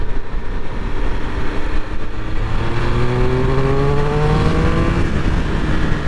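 Triumph Speed Triple 1200 RS motorcycle on a country road accelerating hard to overtake, engine note climbing steadily through the gears, loud and close with wind roar.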